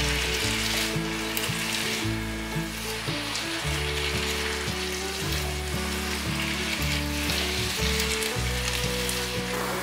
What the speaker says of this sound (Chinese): 把调味料炒匀